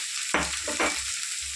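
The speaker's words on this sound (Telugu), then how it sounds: "ఇప్పుడు మనం పొట్టకాయ వేసుకుందాం" Ridge gourd pieces tip into hot oil with a little turmeric, setting off a sudden loud sizzle followed by a second burst as they are stirred, then settling into quieter frying.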